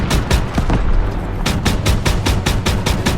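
Gunfire in a World War II battle at Remagen, Germany, March 1945: a loud, rapid fusillade of close shots cracking in quick succession, with a dense rumble of battle noise underneath.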